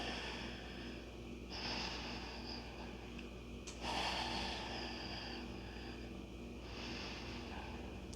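Slow breathing during a yoga flow, faint drawn-out inhales and exhales with soft nasal hiss at a calm pace over a quiet room background, with no talk.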